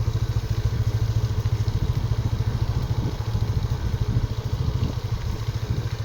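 A Suzuki SkyDrive motorcycle riding uphill on a rural road, its engine running as a steady, close, loud throb with rhythmic pulsing and some rattling clatter throughout.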